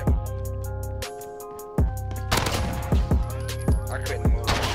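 Rapid MP5 gunfire in a first-person shooter, sharp repeated shots crackling in quick bursts about every half second, loud and close, layered over a steady tonal game background with no talk.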